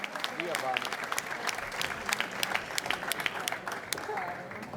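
A crowd applauds at an outdoor public event in a town square in Jesolo. Steady, dense clapping continues for several seconds, with voices mixed in.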